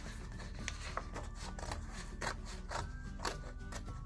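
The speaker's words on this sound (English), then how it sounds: "with a pair of scissors, give it a little snip" Scissors snip through paper in a quiet craft session, making a soft run of short crisp cuts close by, with no talking.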